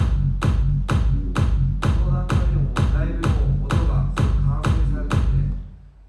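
A driving synth bass pattern repeats in quick, even pulses, punchy with a warm mid-low tone, loud and alone before fading at the end.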